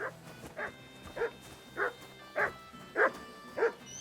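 Mutt the dog barks in Kingdom Come: Deliverance II, a string of about seven evenly spaced woofs over a low game ambience, moderately close.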